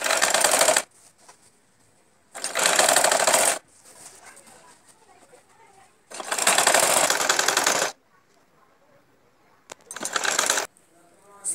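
A sewing machine stitching the waistband of a lehenga, running in four loud, steady bursts of a few seconds each, separated by quieter pauses with soft handling noise.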